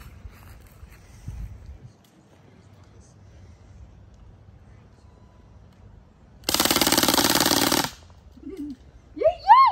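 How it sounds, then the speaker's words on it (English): A Crosman full-auto BB gun fires a single sustained, loud buzzing burst of rapid shots lasting about a second and a half, set against quiet outdoor background with faint voices afterward. "this is my new Crossman full auto BB gun that I just got for Christmas, and we're about to shoot it for the first time"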